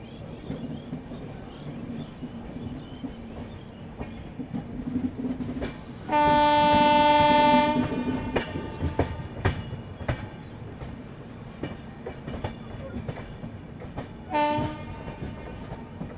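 An Ahmedabad Gorakhpur Express train rolls across points toward Chheoki Junction near Prayagraj, its steady rumble and clatter broken by a long, loud horn blast and a shorter one later.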